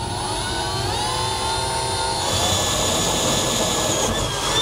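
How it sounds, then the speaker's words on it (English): A 1/4 inch drill bit bores slowly into the steel bed of a pickup truck during an underbed gooseneck trailer hitch install, giving a steady whining drill motor with a harmonic tone that rises in pitch midway and runs continuously throughout. "So now I want to grab a 1/4 inch drill bit. We're just going to drill out on that spot that we marked."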